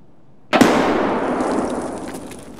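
A grenade explodes in a video game: one sharp, loud burst followed by a long fading rumble and wash of debris noise, with no voices.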